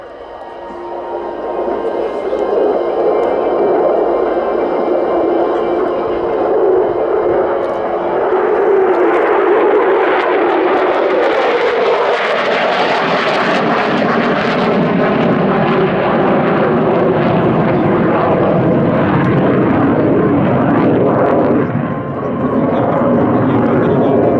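A display aircraft flies a four-point roll at the Royal International Air Tattoo, its loud jet roar swelling as it passes overhead and then sustaining a broad, rushing drone that fades slightly at the end.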